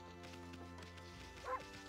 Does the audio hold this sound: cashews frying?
no